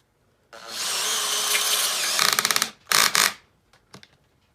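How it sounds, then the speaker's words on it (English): A drill drives a screw with a Makita Impact X bit, whirring hard for about two seconds, then its clutch ratchets rapidly before torquing out, followed by two short bursts and a few faint clicks. "try and run a screw into it with the drill"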